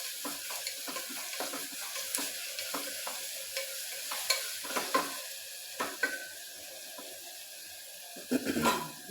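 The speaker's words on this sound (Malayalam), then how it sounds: "അപ്പോൾ പിന്നെ ഇപ്പോൾ കൂടുതൽ ഉപ്പിടാമെങ്കിൽ പെട്ടെന്ന് വഴറ്റിയെടുക്കാൻ പറ്റും." Curry ingredients are sautéed in a pan, with a steady close sizzle broken by repeated scraping stirs and a few louder knocks of the utensil, and no talking.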